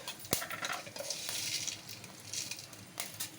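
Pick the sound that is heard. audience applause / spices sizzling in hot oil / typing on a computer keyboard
spices sizzling in hot oil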